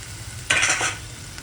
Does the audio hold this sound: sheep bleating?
no